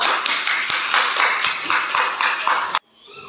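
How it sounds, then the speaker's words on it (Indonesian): A short burst of hand clapping from a small group in a classroom, brisk and close, cutting off abruptly after about three seconds. "beri tepuk tangan untuk Arul."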